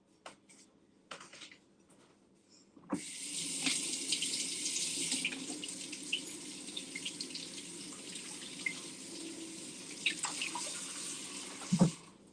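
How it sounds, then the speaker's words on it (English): Tap water pours over a cast-iron lid being rinsed in a sink, starting suddenly after a few quiet clicks and running as a steady close hiss with splashes, ending in a brief clunk. "I'm going to go ahead and rinse this off."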